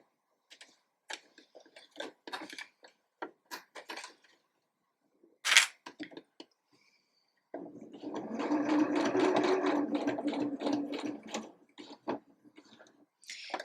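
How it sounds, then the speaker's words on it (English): A sewing machine tacking a T-shirt neckband in place, starting with scattered clicks and handling taps, then a sustained close whirring run of stitching lasting a few seconds before tapering off into more clicks. "get it under the machine, and we will tack it in place"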